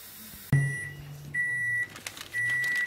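A microwave oven gives a sharp beep after a thump, then two longer steady tones follow, close and clear in a quiet kitchen.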